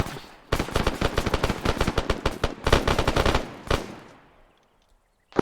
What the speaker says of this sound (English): Clear by fire.